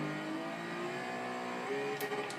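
Engine of a 2011 Lotus Evora S sports car in the racing game Forza Horizon 2, a steady loud drone rising slightly in pitch, with a couple of short sharp bursts near the end.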